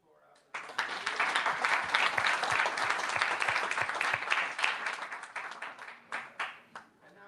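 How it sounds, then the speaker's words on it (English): A conference audience breaks into a sudden round of applause, a dense, even clatter of many hands lasting about six seconds before it thins out into a few scattered final claps. "Join me with a big applause"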